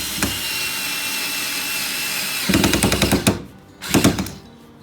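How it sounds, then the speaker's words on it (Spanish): Drill driving a screw through a metal bracket into the wooden leg of a DIY urban garden growing table, a steady whir followed by a few sharp rattling bursts near the end. "lo único que nos quedará es poner el tornillo que aguantará la escuadra a la pata."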